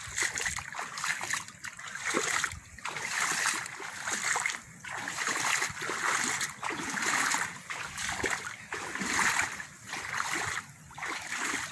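Someone wading through water in a mangrove, with repeated sloshing splashes in a loose rhythm as legs push through, close and fairly loud with no voices.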